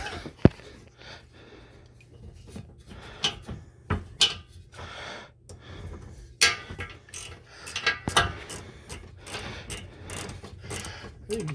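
A ratchet clicks in irregular bursts during a coolant change on a 2013 Ford Edge 3.5L, with sharp close metallic clicks and short pauses between turns.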